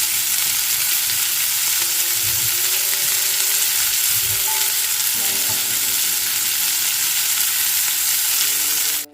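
Chopped onion fries steadily in a pan until reddish, for a Bengali prawn dish; a dense, even sizzle runs close and loud throughout, with faint stirring tones underneath and no talk.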